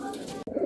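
Kaldum Madrasi pigeons coo in a low, soft murmur. The sound is cut by a brief click near the middle, then resumes a little louder at the end.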